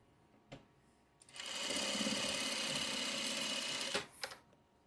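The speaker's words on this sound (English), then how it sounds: "Sew the other side." Home sewing machine stitching a quilt block, a short burst of fast, even whirring that starts after a second of quiet, runs steadily for about three seconds, then stops with a few faint clicks, close and alone.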